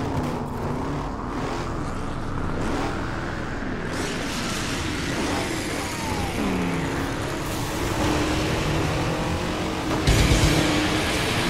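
Steady car engine drone from Burnout Paradise as a car drives west toward a wind farm, with pitch rising and falling through gear changes, loud and continuous throughout with no talk.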